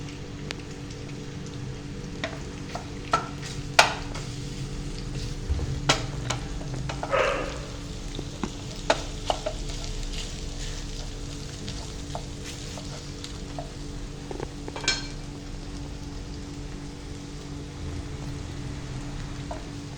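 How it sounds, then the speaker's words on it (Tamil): Chicken pieces deep frying in hot oil, a steady soft bubbling sizzle with scattered crackles and pops running continuously, fairly quiet and with no talking. "இது நல்லா ஃப்ரை பண்ணி பஜ்ஜி மாதிரி ஆகணும்"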